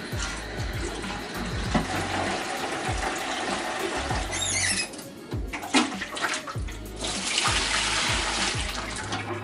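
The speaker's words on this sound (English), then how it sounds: "I'm now gonna rinse out the new tank." Water rinses out a new betta fish tank in a steady, close splashing wash, with intermittent clunks and knocks throughout and no talking.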